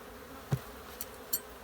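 A low, steady hum from a mass of honey bees at an opened hive during February colony care, with a few faint clicks and taps of handling over the continuous buzz.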